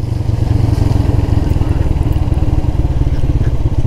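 A Yamaha YBZ 125cc motorcycle is ridden along a road toward a village in Pakistan. Its engine drones loud, close and steady throughout, with no talk.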